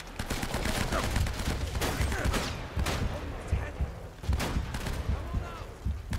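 Gunfire while shooting an enemy in the video game Uncharted: Drake's Fortune, rapid bursts of shots and impacts over continuous combat noise, with some sharper volleys toward the end.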